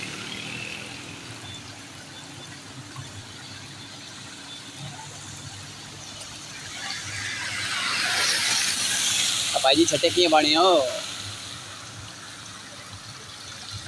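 Rainwater running along the Mirpur–Kotli road at Hamidabad Chowk, Chakswari, after rain, a steady wash that swells into a louder rushing spill midway, with someone talking over it and faint traffic or background hum.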